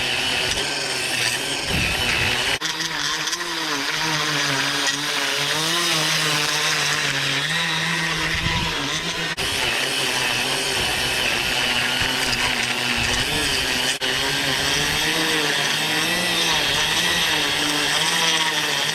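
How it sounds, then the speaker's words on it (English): A STIHL FCA 140 battery lawn edger tears through thick Dallas grass clumps and dirt, giving a loud, steady, close motor whine with a rough grinding edge that wavers in pitch as the blade bites, continuous throughout. "this is having no trouble getting through this very thick Dallas grass clumps and tearing through this dirt"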